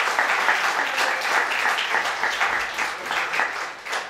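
A church congregation claps for the Lord in rhythmic, fairly even beats, a close, moderately loud wave of hands that persists through the moment with no talking over it.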